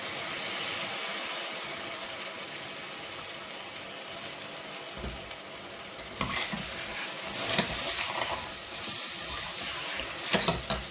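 Onions frying in a pan for a rice and chicken dish, a steady soft sizzle throughout with occasional clinks and stirring noises, louder bursts near the end, no talking.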